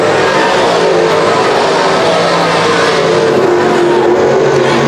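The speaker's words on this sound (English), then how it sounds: "that motor's digging all the way around the corner" A modified race car engine roars continuously at Can-Am Speedway, loud and sustained as it drives hard through a corner, with a slowly shifting pitch and no voices on top.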